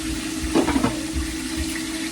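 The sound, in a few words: chicken frying in a pan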